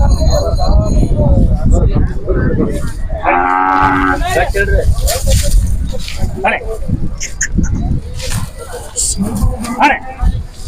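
A Khillari breeding bull lows once, loud and close, with a harmonic moo lasting about a second at a busy Vijayapur fair, surrounded by crowd babble and people talking throughout.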